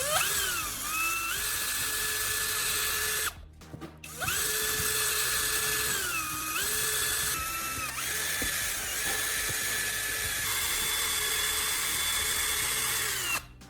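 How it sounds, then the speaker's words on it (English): A power drill grinds loudly and almost continuously into a mixed graphite and baking soda sample, its pitch dipping and recovering as it bites into the material, with one brief pause partway through. "When I drill into the mixed sample, it holds its shape and pushes back."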